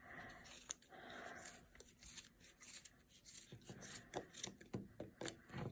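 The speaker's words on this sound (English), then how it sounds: "you're going to use your scissors to cut up the middle" Scissors snip through yarn wound on a pom-pom maker, a series of quiet, close, crisp cuts and rasps at an irregular rhythm with no talking.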